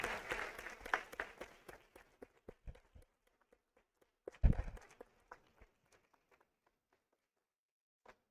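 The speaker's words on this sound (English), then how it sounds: "and I think that deserves a round of applause too" Applause breaks out at a school board meeting for an honoree, starting as a dense round of clapping that thins after about three seconds into scattered claps, with a brief burst midway and a last lone clap near the end.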